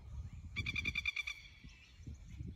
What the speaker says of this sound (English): Birds chirping away in the background.